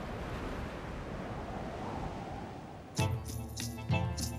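Sea waves rolling onto the Camargue coast of the Mediterranean, a steady broad wash of surf with some wind, broken near the end by a few louder thumps and clatters close to the microphone.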